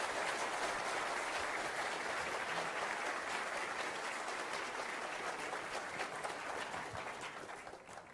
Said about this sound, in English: Dr. Spencer, please a round of applause for both of our presenters.